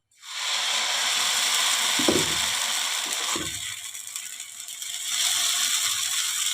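A thick dosa cooking on a tawa greased with sesame oil gives a steady, close sizzling hiss throughout, broken by a couple of dull thumps.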